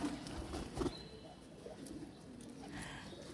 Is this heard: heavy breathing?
no